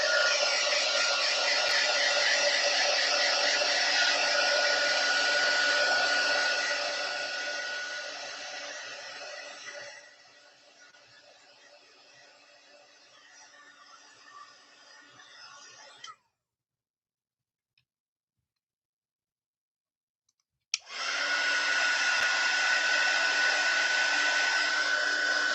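A heat gun blows a steady, loud broadband roar while drying a handmade card, softening partway through, cutting out for a few seconds of silence, then starting again at full strength.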